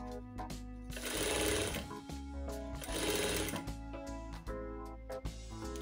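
A sewing machine stitches down the folded edges of fabric for aari-work bridal bangles, running in close, rapid bursts of mechanical whirring with short pauses and clicks between runs.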